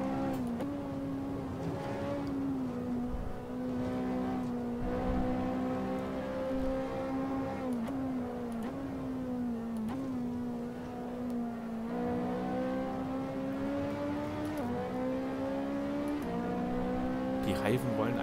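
A Ferrari 458 Italia in Assetto Corsa, a tourist lap on the Nordschleife, with its engine revving high and steady and pitch climbing and dropping through gear shifts, continuous and loud throughout.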